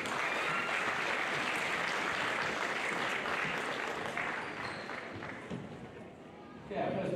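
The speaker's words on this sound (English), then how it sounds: "so please give yourselves a clap, all right" A gathering at a junior girls football grand final claps for the volunteers and parents, a dense steady wash of applause that dips briefly near the end before a voice begins speaking.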